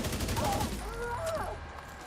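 Gunfire in The Division 2, a dense rattle of rapid shots over ongoing game noise and a constant low rumble, with a player's voice partly over it.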